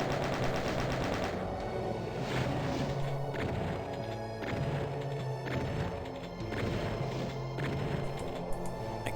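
Enemy gunfire in Doom 2, a dense run of repeated shots and impact thuds in a rapid, uneven rhythm, loud and close throughout.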